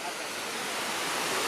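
Water cascades steadily into the 9/11 memorial reflecting pool at the former South Tower site, a loud, continuous, broad rushing roar that fills the whole moment with no break.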